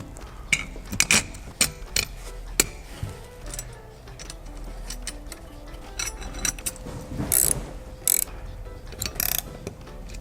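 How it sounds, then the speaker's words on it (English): Small metallic clicks and ratcheting taps as a bolt is threaded back into a DND hydro handbrake assembly with plastic washers, close up, irregular and moderately quiet over a low background hum. "And then we can replace the bolt."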